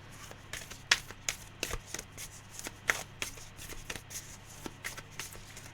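A tarot card deck is shuffled nearby in quick, irregular riffling bursts of papery snaps and slides, fairly quiet over a low steady hum.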